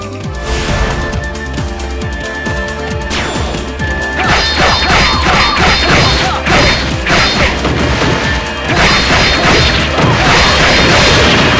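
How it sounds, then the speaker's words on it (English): Cannons fire in a battle video game, a series of heavy booms and crashing impacts that repeat in irregular bursts and stay loud, layered over busy clanking battlefield noise, with no speech. "Ready the cannons!"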